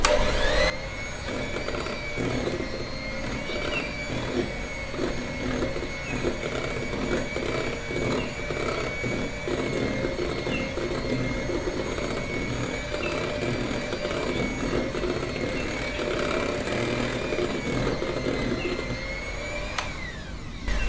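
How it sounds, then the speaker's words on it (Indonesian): An electric mixer runs at low speed, beating melted chocolate into cake batter with a steady, even motor drone for about twenty seconds, with no talking. "Mixer lagi dengan kecepatan rendah."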